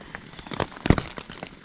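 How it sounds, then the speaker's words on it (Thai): Raindrops patter irregularly on a surface nearby at dawn after all-night rain on a mountain campsite in Mae Ramat, Tak, Thailand, with a few louder drips standing out over a soft, steady background. "บรรยากาศที่ฝนตกทั้งคืนเลยแล้วตอนนี้ก็ยังตกอยู่นะ"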